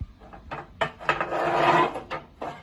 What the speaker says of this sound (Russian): Зольный ящик хороших размеров для такой печки.